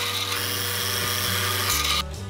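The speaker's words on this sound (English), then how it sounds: "I'll use the drill press to hog out most of the material" Drill press boring out a mortise in wood for a Japanese-style bookshelf, a steady loud whirring motor tone with bit cutting noise that shifts pitch near the end before winding down.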